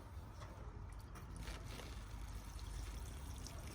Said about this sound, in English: Give it a nice generous amount of water.